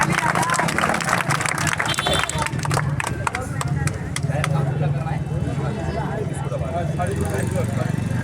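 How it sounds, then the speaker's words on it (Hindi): An audience claps loudly for a woman volunteering at a firefighting demonstration, with dense, rapid clapping at the start that thins into scattered claps and crowd murmur, while a presenter speaks over it. "इनके लिए जोरदार तालियां।"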